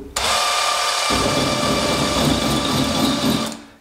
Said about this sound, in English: we'll get started and slowly grind some holes through this one.